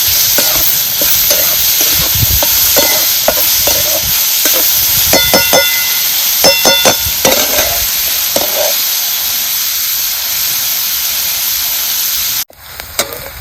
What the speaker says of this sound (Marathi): चांगला रंग बदलत कांदा आपल्याला भाजायचा.